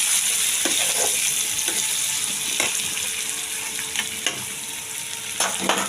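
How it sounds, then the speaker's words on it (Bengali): Onions frying in hot oil with cumin seeds for an egg curry, a steady crackling sizzle with occasional stirring clinks and scrapes of the spatula in the pan, close and continuous. "পেঁয়াজটা ভাজা হতে হতে আমি মশলাটা রেডি করে নিচ্ছি"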